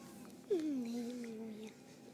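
A kitten gives one drawn-out meow, close and fairly clear, with a sliding, falling pitch that lasts about a second over a quiet room background.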